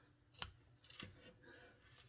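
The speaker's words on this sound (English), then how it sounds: "And then I will trim up the edges" Scissors snip along the edges of a handmade patchwork paper card, a single crisp close cut followed by a couple of quieter trims in a quiet room.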